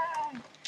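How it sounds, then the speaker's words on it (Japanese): A cat met at a fishing tournament venue gives a short, faint meow with a falling tone, heard alone at close range. "なんか猫いんだけど。"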